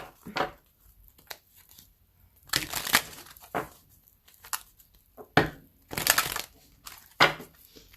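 Tarot cards are shuffled in several short riffling bursts, close and fairly quiet, with pauses between each shuffle.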